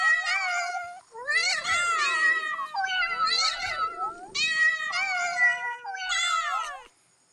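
A cat meow sound effect played from a Google search trick, with five loud, clear meows in a row, each drawn out and whiny, separated by short gaps.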